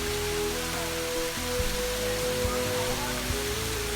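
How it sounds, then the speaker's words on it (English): Waterfall at Big Rocky Hollow pouring in a steady broadband rush, continuous and fairly loud, with faint background tones and no voices. "As you can see, it's a pretty impressive waterfall."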